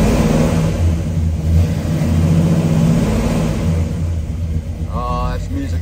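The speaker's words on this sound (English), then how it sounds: "Let's give it a little rev," A 1965 Pontiac GTO with a lopey cam is revved from idle, its deep engine rumble swelling close by and then settling back.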